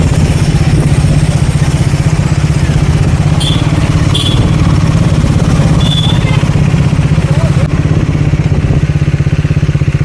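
Motorcycle engine running steadily and loud throughout, a low continuous drone near a lake outside Bangalore, with brief high whistling or squeaking sounds mixed in.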